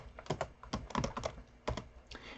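Keys on a Windows computer keyboard clack in quick irregular bursts, a short run of typed strokes with brief pauses between them, close and clear with no talking.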